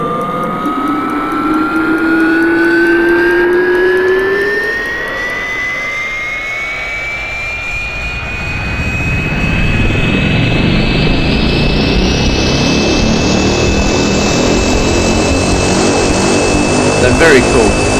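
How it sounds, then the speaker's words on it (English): A Carenado C208B Caravan turboprop engine in X-Plane 10 spools up from startup, a rising whine climbing steadily and then settling into a loud, sustained roar with a high tonal hum running throughout. "Jet prop engine."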